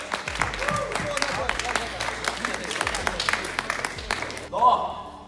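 Applause for second-place prize winners at a LAN gaming event, heard under a loud voice and amplified sound that run through most of it, ending with a short burst near the close.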